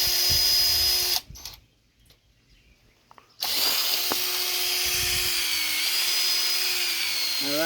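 A power drill bores into wood while a wooden lamp is being built, whining loud and steady with a brief drop partway through before the motor spins back up and runs on continuously.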